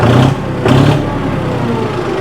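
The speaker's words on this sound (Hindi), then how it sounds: "जैसे मैं एक्सीलेट कर रहा हूँ ना, तो पावर क्विक डिलीवर करा रहा है।" A John Deere 5050D Gear Pro 4WD tractor engine accelerates nearby, with a loud, steady diesel drone that swells twice in quick surges before settling.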